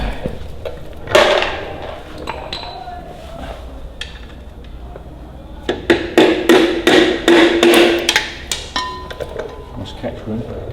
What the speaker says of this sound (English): punch that nut out, otherwise I can't use it for the other bit